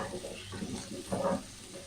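Chicken, broccoli, carrots, onion and chili stir-frying in a pan, giving a soft sizzle with brief stirring scrapes, faint and close.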